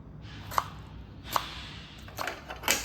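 A knife cuts through tomatoes on a board, four separate chopping taps spaced unevenly against a quiet background.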